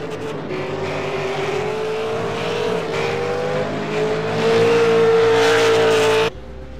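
V8 Supercars race cars roar down the back straight at Bathurst in a racing game, a loud sustained engine drone that climbs in pitch and swells louder near the end before cutting off abruptly.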